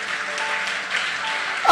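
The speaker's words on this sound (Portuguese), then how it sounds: "Dá um aplauso a Jesus por isso." Church congregation clapping in applause during a sermon, a short steady wash of hands that ends with a sharp bright knock or ping at the close.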